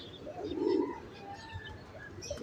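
Male Dabaz-breed pigeons cooing nearby, soft low throaty coos rolling in a short phrase over a quiet background, with no one speaking.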